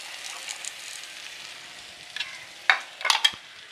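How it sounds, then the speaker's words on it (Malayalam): Chickpeas stirred into a kadala roast gravy sizzling in a pan, with a soft steady fry hiss and a few sharp scraping strokes of the spoon near the end, no voices. "നല്ലപോലെ ഇളക്കി കൊടുക്കാം"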